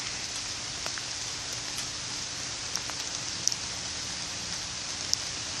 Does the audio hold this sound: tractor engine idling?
no